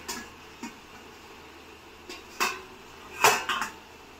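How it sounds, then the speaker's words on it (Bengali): A lid lifted off a cooking pot, a handful of light metallic clinks and knocks spread over a few seconds, the loudest clatter near the end, close and otherwise quiet with no voices. "এখন ঢাকনাটা তুলে নেব।"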